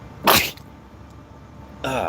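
A single close sneeze bursts out against a quiet room hum, followed by a brief vocal sound.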